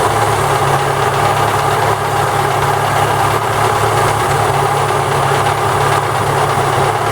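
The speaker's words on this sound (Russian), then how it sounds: "На бензине двигатель даже как-то колбасит." A Daewoo Lanos with a 1.4 MeMZ 317 engine idles roughly, with knocking from the cylinder head and no oil pressure. The idle is a loud, close, steady drone and runs alone without talk.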